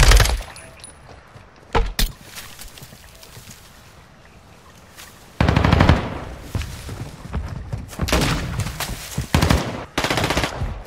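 Gunfire from an enemy shooting behind the player in an online shooter video game: loud, sharp bursts of automatic fire at about two seconds, then sustained volleys through the second half.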